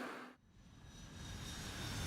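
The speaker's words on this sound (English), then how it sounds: "Pretend we're watching an airplane." Airplane flying overhead in a children's nursery-rhyme story, a steady broadband engine roar that holds fairly loud and continuous after a brief dip near the start, with no talking.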